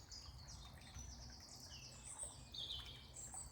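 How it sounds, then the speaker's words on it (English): Birds sing outdoors in a natural setting, several faint chirps and warbling calls scattered across the clip over a steady low rumble of background ambience. "the birds singing"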